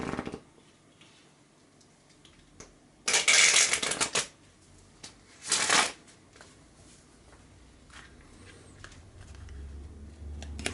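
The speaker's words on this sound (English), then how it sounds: "Now let me shuffle and we will go to the Lenormand reading" Tarot cards are shuffled in two quick riffling bursts, close and crisp, separated by quiet pauses.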